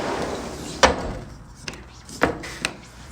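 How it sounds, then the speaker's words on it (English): Door that will not close properly in a room under inspection, heard as a few sharp knocks and bumps spaced over a few seconds, close by with quiet background. "The door, for some reason, is not closing"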